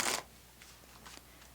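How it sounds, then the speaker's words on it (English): A deck of tarot cards being shuffled, a loud quick riffle at the start followed by faint scattered flicks and taps of the cards. "I'm going to give this a good shuffle."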